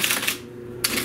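An IBM Selectric typewriter types at 12 characters per inch: a few quick mechanical clacks of the typing element striking, close and clear, with a hum between strikes.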